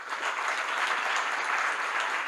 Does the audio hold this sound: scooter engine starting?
no